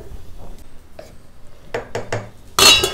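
A large metal vessel handled in a kitchen while cooked rice is prepared for a festival offering: a few light clinks and knocks, then a louder bright clatter at the end, close and without talk.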